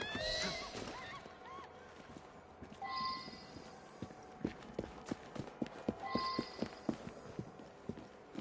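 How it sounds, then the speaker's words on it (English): Steady clip-clop of horse hooves in the video game Assassin's Creed Syndicate, walking at a moderate pace, crisp and close, with a brief whinny near the start. "Who's a good horse?"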